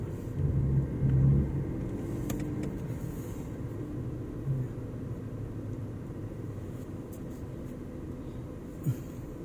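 A car drives down the ramps of a seven-storey parking garage, its engine a steady, low enclosed rumble with a few faint clunks and a swell in the first seconds.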